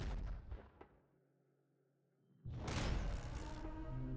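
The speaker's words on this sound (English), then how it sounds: "Heavy pop rifle, actually. Might be better this time around." Heavy pop rifle fire in the Nuclear Throne video game: a dense burst of rapid shots opens, fades to a quiet tonal lull, then a loud sustained barrage of crackling gunfire returns.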